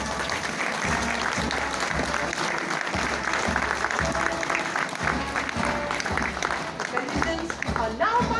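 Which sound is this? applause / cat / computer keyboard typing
applause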